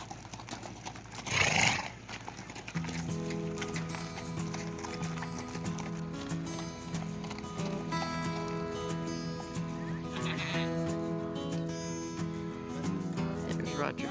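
Horses gather at the start of an endurance ride, with a loud whinny near the beginning followed by steady hoof and movement sounds, while a faint tonal background persists throughout.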